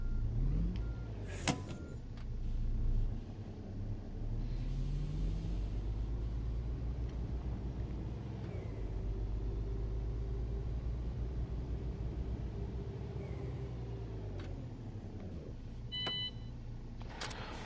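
A truck engine in a trucking video game idles and rumbles steadily as the truck pulls forward, a low continuous drone with a few brief beeps and clicks, no talking.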